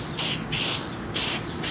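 Four short aerosol spray bursts of filter oil onto a Can-Am Spyder F3 air filter, close and hissing, evenly spaced with brief pauses between them and no talk.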